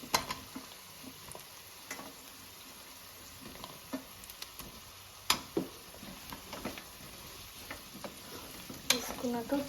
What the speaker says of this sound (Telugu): వేసుకున్నాక ఒకసారి కలుపుకొని మనం మూత పెట్టేసుకుందాం